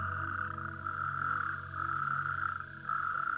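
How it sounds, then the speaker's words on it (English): A steady chorus of frogs croaks through the night in Picos de Europa National Park, a sustained, pulsing trill of overlapping calls at moderate distance that runs unbroken for the whole stretch. "amphibians find a perfect habitat in which to evolve, and although the majority remain invisible during the daylight hours, the nocturnal obscurity brings them out"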